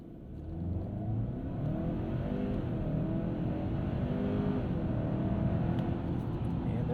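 A 2022 Hyundai Santa Cruz in sport mode accelerates hard from 0 to 60, its engine note rising through the gears as a loud, steady roar heard from inside the cabin.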